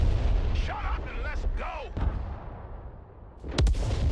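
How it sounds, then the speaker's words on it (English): Artillery explosions in the video game Broken Arrow, a couple of sharp booms with a heavy low rumble, one near the end, under game radio chatter and voices. "anytime you get to try to move something, immediate artillery explosion"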